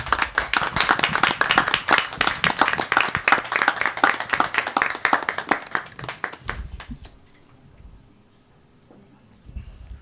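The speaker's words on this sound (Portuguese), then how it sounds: "E vamos aqui, mais uma vez, aplaudir e agradecer ao Gerson Flávio por ter nos deixado obra tão bonita." Audience applause at a book launch, a close, lively burst of clapping hands with distinct individual claps that fades out after about six seconds, followed by a faint room murmur and a brief rustle.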